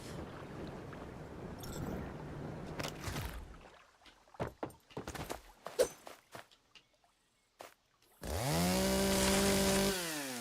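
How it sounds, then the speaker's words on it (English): A chainsaw in the survival game Once Human roars to life near the end, a loud sustained motor drone rising in pitch as it revs, after a stretch of scattered clatter, thuds and brief quiet. No one talks. "did you see I made a chainsaw in this game?"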